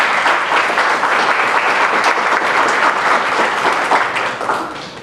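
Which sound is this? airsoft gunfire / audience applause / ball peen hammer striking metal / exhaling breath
audience applause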